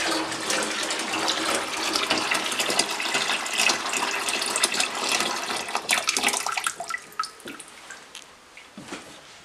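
Hot water runs steadily from a kitchen sink tap, a loud continuous splashing rush that thins out toward the end into scattered drips and gurgles, with no voices.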